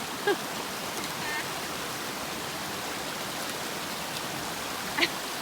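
Steady broadband rush of river water flowing on a snowy backpacking trail, a constant wash at moderate level with a few faint clicks and knocks over it.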